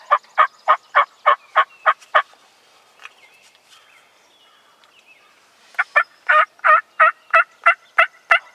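Wild turkeys gobbling in a field during a spring bow hunt, a loud nearby burst of rapid rhythmic gobbles, a quiet gap with faint calls, then another loud rapid series.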